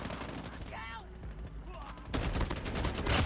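A DR-H submachine gun fires in Call of Duty Mobile: scattered shots first, then a dense, continuous burst of rapid gunfire that grows louder toward the end, with other battle noise around it.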